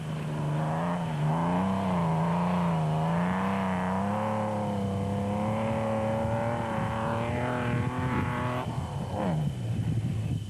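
Rally race car driving hard in Class S at the 2007 Limpopo 400, its engine loud and close with a sustained, wavering howl as revs rise and fall through gear changes, then a sharp drop near the end.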